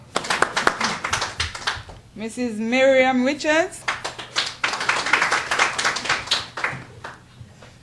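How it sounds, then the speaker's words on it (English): A small gathering at a training certificate ceremony claps in short bursts, crisp hand claps around a brief passage of a voice speaking loudly over the room. "Give her a round of applause, please."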